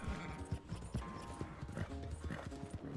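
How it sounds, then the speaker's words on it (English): A horse gallops in the open-world western game Red Dead Redemption 2, its hooves clip-clopping in a quick, steady rhythm close by, with a faint neigh mixed in and no talking. "My horse is going to run out of stamina here."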